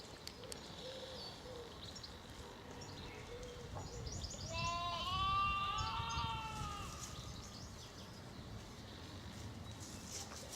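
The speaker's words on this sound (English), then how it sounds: "Plenty of noise down below. Tired mums and energetic young lambs." Sheep and young lambs bleat from a field below a hillside path near Witley and Haslemere, a cluster of calls rising in the middle, moderately distant, over soft outdoor wind and footsteps.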